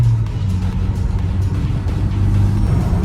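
Isuzu MU-X 1.9 automatic SUV cruising at high speed: a steady, loud low engine drone with road and wind roar that holds constant throughout, no talking.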